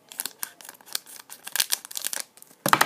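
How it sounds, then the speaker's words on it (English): Scissors cut open Pokemon booster packs in a quick run of crisp snips and rustling foil, close, ending with a louder cut, with no talk. "I resorted back to the scissors, because that's so annoying."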